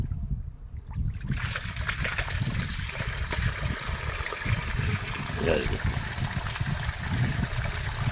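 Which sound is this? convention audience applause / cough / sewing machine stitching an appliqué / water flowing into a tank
water flowing into a tank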